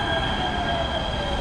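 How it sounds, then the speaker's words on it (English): A Los Angeles Expo Line light rail train hums steadily from inside the car, a loud, even rolling rumble with a faint high tonal whine and no voices. "This is one of the nicer trains, honestly."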